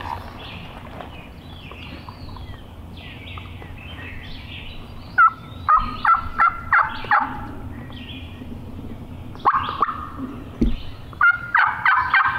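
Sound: wild turkey calling

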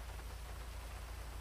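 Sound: pouring rain in a video game

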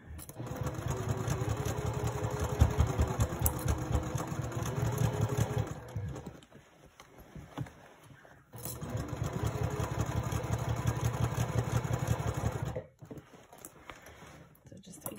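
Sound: sewing machine stitching handbag fabric pieces

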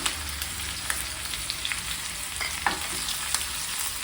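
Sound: onion sizzling in hot oil for fish curry

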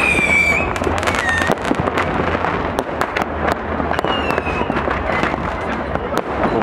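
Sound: New Year's Eve fireworks and firecrackers in Cologne

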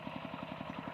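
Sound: walking tractor engine pumping water into rice field

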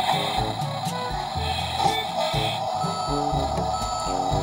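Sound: toy truck button playing reversing vehicle sound

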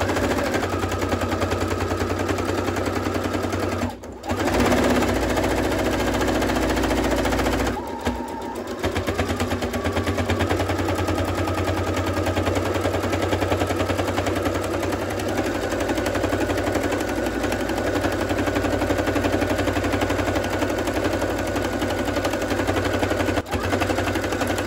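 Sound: sewing machine sewing a blind hem with blind hem presser foot

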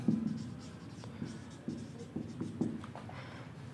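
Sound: writing on a board

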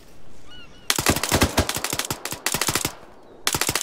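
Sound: gunfire in the video game Arma 3

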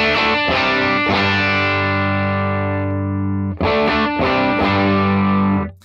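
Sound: electric guitar chords through FM3 Morgan AC-20 amp model

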